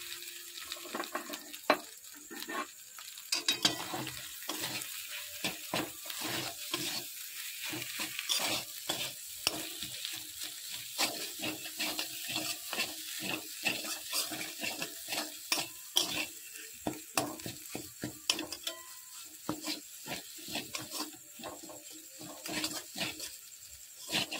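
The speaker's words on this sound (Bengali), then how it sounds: "এবার আমি এটাকে নাড়বো" A spoon works mashed boiled potato with salt in a pan for vegetable cutlets, giving steady, repeated scraping and squelching strokes over a light sizzle, close and fairly loud, with no talking.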